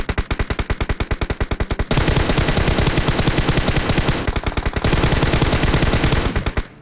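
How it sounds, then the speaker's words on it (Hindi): Loud automatic gunfire in the mobile battle royale PUBG Mobile, long rapid bursts of machine-gun shots with a fast even rhythm, briefly thinning to separated rounds before resuming, close and with no speech. "मेरा टीममेट पता नहीं क्या कर रहा था हवा में फायर"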